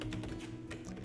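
Quick keystrokes clatter on a computer keyboard while text is entered into a PowerPoint slide, a short close burst of light taps with no one talking.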